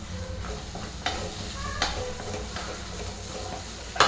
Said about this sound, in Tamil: பூண்டும் போட்டுடலாங்க. வெங்காயம் வணங்கிடுச்சு.